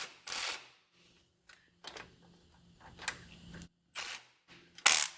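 Ratchet wrench with a 1/2 inch socket bolting in the front hub of a 2009 Polaris Sportsman 500 ATV, heard as several short bursts of rapid clicking separated by pauses, fairly quiet and close, with no talking.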